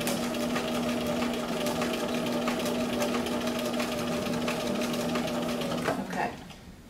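A sewing machine stitches a sleeve placket in a loud, even, fast whir with a steady motor hum, running continuously up close before stopping abruptly near the end.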